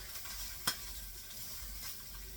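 Steady, quiet sizzling of Spam frying in a pan, with a brief sharp clatter near the start.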